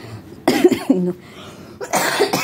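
Two bursts of harsh coughing, a short cluster near the start and another about a second and a half later, fairly close and loud.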